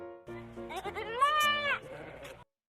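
A young goat bleats in a children's fairy tale: a wavering, rising bleat rings out close and clear for about two seconds, then stops.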